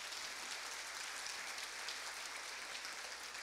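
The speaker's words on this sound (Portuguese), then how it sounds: "Vamos dar uma salva de palmas aí para o André." Audience applause for a musician named André at the opening of the Nordestão 2018 event, a steady, even wash of clapping heard somewhat distant and faint, with no voices over it.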